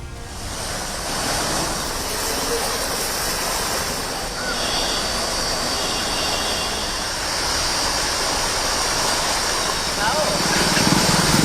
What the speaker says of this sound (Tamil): சாலையில் ஆறு போல பாயும் மழை நீர்.